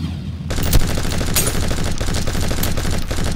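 Machine gun fire added as a sound effect in After Effects, heard as a dense, continuous burst of rapid gunshots with a few sharper cracks, loud and close, running for about three seconds after a short near-silent start.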